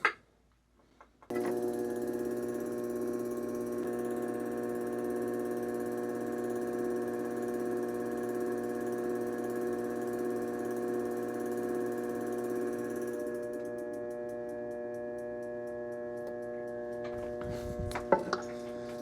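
A pottery wheel spins while a clay piece is trimmed with a needle tool, giving a steady mechanical hum with a faint scraping texture, then fading out with a few clattering knocks near the end.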